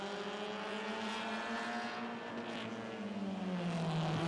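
Race cars at Barrie Speedway roar steadily at a moderate distance, with engine tones that layer and shift as the pack moves around the track and no voices over them.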